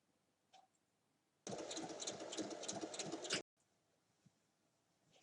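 A sewing machine stitches the back panel of a fabric bag in one continuous two-second run of rapid, even needle clatter, with quiet handling noises before and after.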